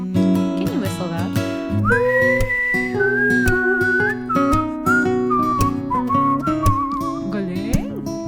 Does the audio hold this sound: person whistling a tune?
yes